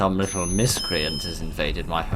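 An electronic beeping alarm tone in a gas station horror video game runs steadily beneath continuous close speech, a thin high-pitched line holding through the talking.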